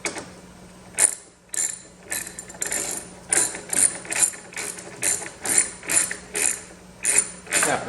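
Ratchet wrench clicking loudly up close while undoing bolts on a 1985 Corvette, rapid bursts of ratcheting repeated in regular strokes with brief pauses between them.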